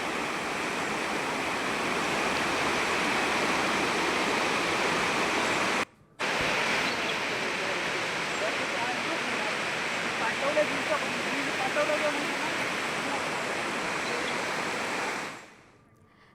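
A flooded river running high after unseasonal rain, a loud, dense, continuous rushing roar with one brief cut midway, then fading out at the end.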